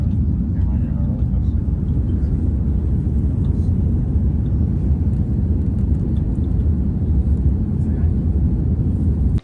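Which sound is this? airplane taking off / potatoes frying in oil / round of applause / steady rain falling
airplane taking off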